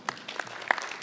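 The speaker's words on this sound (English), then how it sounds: "We can clap for them" A live audience at a state visit event claps briefly, a short burst of scattered hand claps without speech.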